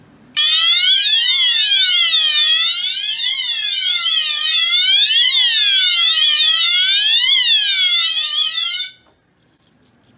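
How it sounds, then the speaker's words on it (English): A loud electronic security siren wails alone for about nine seconds, its pitch sweeping up and down in repeated fast cycles before cutting off abruptly. "It's like a really rowdy security siren or something."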